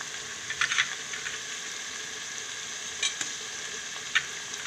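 Ginger and garlic frying with turmeric in hot oil in a pan, a steady broadband sizzle with a few brief stirring scrapes and clicks, close and alone with no talk.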